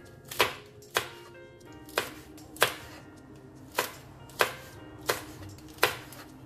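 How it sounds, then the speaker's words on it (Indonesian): Green chilies are sliced diagonally with a somewhat dull knife on a cutting board, about ten crisp, evenly spaced chops landing close and clear with no talking. "cabai ngirisnya saya akan ngiris serong ya"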